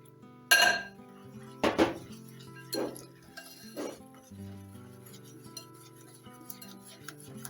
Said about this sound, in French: vous mélangez jusqu'à que la pâte soit bien homogène